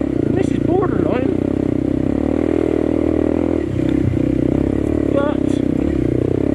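A Honda CRF301CC motorcycle rides off-road, its engine droning steadily and loudly throughout, with brief revs and clattering knocks over rough ground and someone speaking over it at moments.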